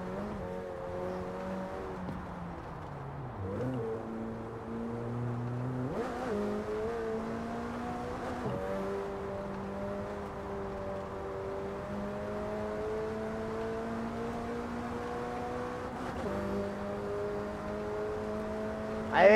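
Car engine droning steadily through the gears while driving in Forza Horizon 4, with rising revs, several sharp shifts and brief dips, loud and continuous with no talking.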